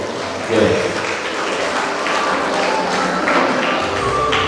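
Audience applause at a closing ceremony in a Rotary hall in Bantwal, a steady, loud, close burst of clapping from many hands that holds throughout, with voices talking underneath.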